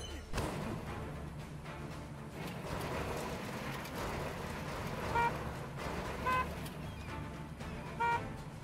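Vehicle driving in the video game Jumanji Wild Adventures, a steady engine and road rumble with a few short horn toots near the end, no talk.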